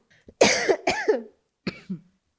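A person coughs in a few harsh, separate bursts, two close together and then a shorter pair after a pause, near and fairly loud with no talking.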